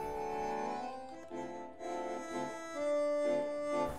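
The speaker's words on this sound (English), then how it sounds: "So, standard accordion sounds like this." A standard accordion plays a short passage of sustained reedy chords and melody notes, close and clear, with no voices.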